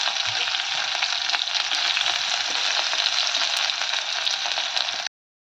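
Finely chopped onion frying in a pan, an even, loud, close sizzle with faint stirring crackles, cutting off abruptly at the end.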